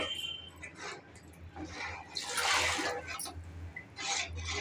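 Water poured into a pot of coconut-milk vegetable brinji, a soft splashing trickle in short bursts with quiet gaps, fairly faint and close.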